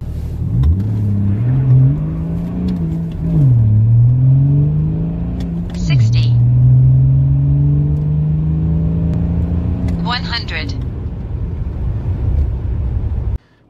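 A BMW E39 530d with the M57 diesel engine accelerates hard from 0 to 100 km/h, its rising drone climbing steadily with two brief gear-change dips, loud and close from inside the cabin throughout.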